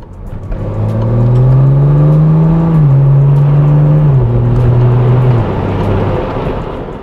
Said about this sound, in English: listen to the wind noise coming in